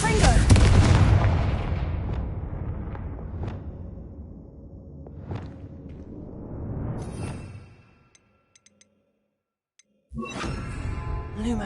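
A Confringo fire spell bursts in Hogwarts Legacy with a loud, booming explosion that rolls and fades over several seconds. A short gap of silence follows, then a new rumbling sound starts.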